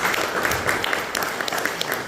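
An audience at an Independence Day ceremony at a wellness centre claps in lively, steady applause. Many hands sound close together, with no break for about two seconds.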